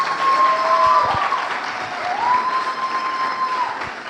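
A church congregation applauding, with some cheering mixed into steady clapping and a few thumps, fairly loud throughout with whistle-like tones gliding above.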